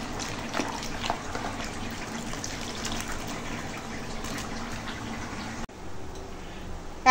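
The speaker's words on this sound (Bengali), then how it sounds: "আর এখন এই হলুদ জলেই একটু চটকে নেব, চটকে ধুয়ে পরিষ্কার করে নিয়ে আসছি।" Chopped banana flower is squeezed and washed in turmeric water, making a continuous splashing, sloshing wash of liquid close by that cuts off abruptly near the end.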